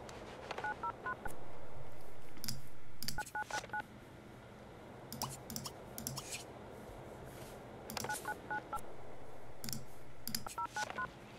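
Touch-tone telephone keys are dialed in The Sims video game: short electronic beeps in quick bursts, separated by clicks and soft background game sounds.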